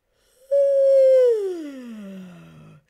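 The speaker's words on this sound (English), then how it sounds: "let's start with a good yawn stretch" A single long, loud human yawn during a stretch. It rises into a sustained voiced tone and then slides slowly downward before fading out, heard alone against silence.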